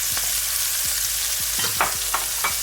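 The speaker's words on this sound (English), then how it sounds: "Throw my orange peppers in there. And some red peppers. And a few of the green ones." Orange, red and green bell peppers fry in a pan for fried rice, giving a dense, steady sizzle close up, with scraping and stirring clatters from a utensil and no voices.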